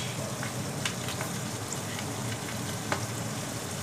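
Garlic and black pepper frying in hot oil in a pan with minced meat for keema, a steady close sizzle with faint stirring clicks and scrapes throughout, no talking.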